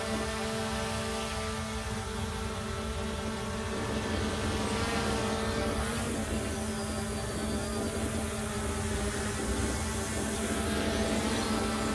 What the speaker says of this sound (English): I got this gimbal to track my drone when I was in the park yesterday